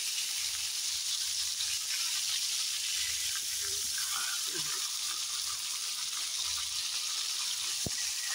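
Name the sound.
fish frying in oil in a pan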